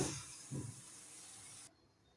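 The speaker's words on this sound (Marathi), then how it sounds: "भाजीला उकळी आली आहे." A pan of thin spinach curry simmers at a boil with a steady bubbling hiss and a couple of soft low pops, then the sound cuts off abruptly.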